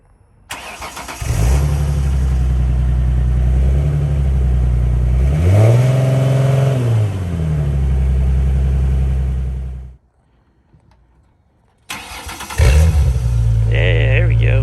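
A Ford Mustang fitted with a new exhaust cranks and fires into a loud, deep idle, rises in a throaty rev, drops, cuts off briefly, then restarts with a heavy rumble.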